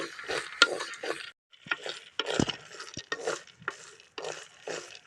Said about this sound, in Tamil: கடலப்பட்டை நல்லா பொன்னரமாக வறுத்துட்டு இந்த மாதிரி எடுத்துக்கலாம்